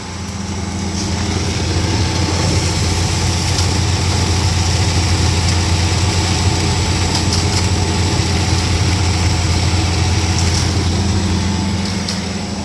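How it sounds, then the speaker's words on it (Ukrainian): A cold engine idles steadily while warming up, a loud, even low rumble that continues unbroken from start to finish with no talk. "почав грітися мотор"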